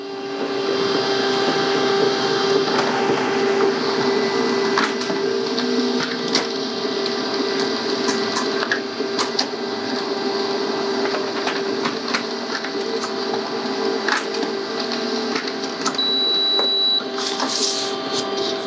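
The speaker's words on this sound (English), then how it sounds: "and it'll start printing" A Canon LBP-series laser printer with white toner feeds and prints heavy card stock, giving a steady mechanical whir and hum with faint rolling clicks and soft clunks. The run lasts about eighteen seconds, close and continuous, with no voices.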